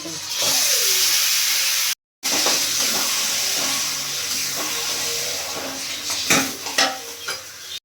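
Marinated mutton goes into a hot pan of fried garlic paste for Bengali mutton kosha, giving a loud, steady sizzle that breaks briefly, then continues under clattering stirs and scraping near the end.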